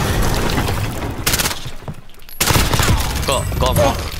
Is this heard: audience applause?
no